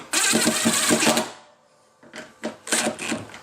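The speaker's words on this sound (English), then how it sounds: "so we got it drilled in" A power drill drives a bolt into an aluminum bracket on an LTW wing, a loud rattling whir for about 1.5 seconds, a brief pause, then several shorter bursts.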